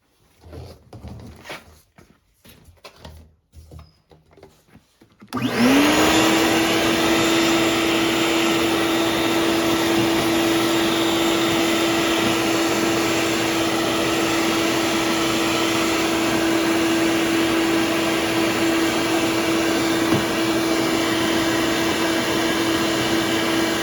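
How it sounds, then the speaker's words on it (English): Vacuum cleaner sucking dirt and flies from a Kawasaki ZX6R motorcycle air filter, starting after a few seconds of quiet handling noises, then a loud steady whine running close and unbroken to the end. "when I was cleaning this filter, I was sucking the dirt and flies up"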